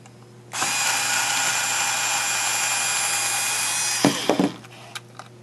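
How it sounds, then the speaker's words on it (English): A power driver unscrews screws from a computer's mallet board, a loud steady whine held for several seconds before cutting off, followed by a few close clattering knocks as the screw comes free. "Go around and unscrew the board."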